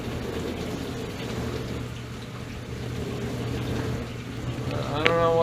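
A Whirlpool dishwasher running and spraying water inside, a continuous hiss of water over a low steady hum, close and even, with a brief clatter near the end.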